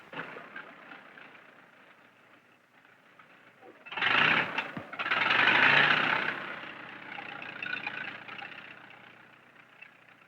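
Tractor engine idling at a distance from an old 1938 film soundtrack, a low steady rumble that briefly surges louder twice in the middle before settling back, no speech heard.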